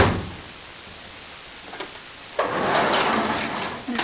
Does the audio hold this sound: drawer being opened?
yes